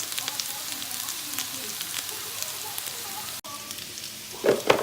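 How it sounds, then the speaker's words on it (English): Seasoned boiled potatoes fry in a pan with a steady, soft crackling sizzle throughout, plus a brief louder scrape near the end. "these are boiled potatoes that I seasoned and I fried it."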